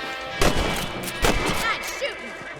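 Rifle shots aimed at rabbits in the video game Red Dead Redemption: two sharp, loud reports about a second apart over a quiet outdoor ambience, with faint game sounds between.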